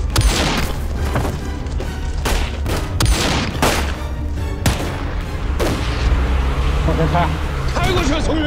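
Gunfire in a tense period spy drama scene: sharp, loud cracks and heavy booms repeat roughly every second, layered over a dense, rumbling background of score and action noise.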